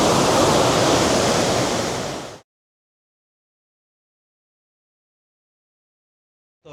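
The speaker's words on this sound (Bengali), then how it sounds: "কি ভয়ঙ্কর ঝর্ণার স্রোত" The torrent of Dim Pathar waterfall in Thanchi, Bandarban rushes loudly and up close for about two seconds, then cuts abruptly to silence.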